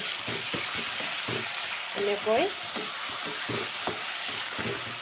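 Pre-fried potatoes with leaves frying in a pan, a steady close sizzle with stirring scrapes, while someone speaks briefly over it.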